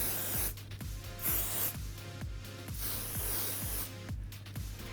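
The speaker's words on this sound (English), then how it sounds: "So we're just going to finish this off with a good bit of hairspray." Hairspray sprayed onto sleek styled hair in a series of steady hissing bursts, close and fairly loud, with no talking.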